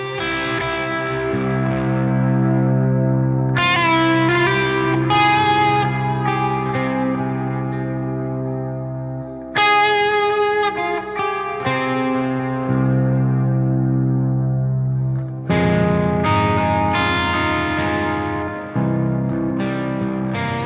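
An electric guitar runs through a Strymon BigSky MX reverb pedal, playing loud strummed chords that swell and ring with lush, washy reverb tails. Three separate strums each sustain for several seconds, with no talking.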